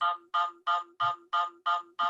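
A phone ringtone during a virtual town hall on COVID-19: seven identical electronic beeps in a quick, even rhythm, loud and close with nothing else heard.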